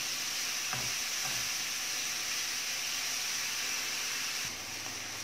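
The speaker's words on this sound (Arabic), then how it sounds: "وغادي نخليهم بجوج بهم كيتشحروا حتى كتبان هذيك الفلفله مع الكوارو" Peppers and onions sautéing together in a pan give a steady, close sizzle with a constant bright hiss throughout, a few soft stirring knocks near the start, and no voices.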